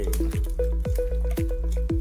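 Cooking oil poured into mutton biryani masala with ginger-garlic paste and green chillies, giving a steady run of soft, regular drips and wet plops, close and clear with no talking.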